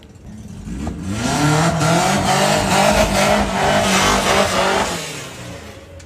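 An Audi and a Volkswagen Passat drag race, engines revving hard as they pass close by, the roar rising and holding for several seconds with shifting pitch before fading away.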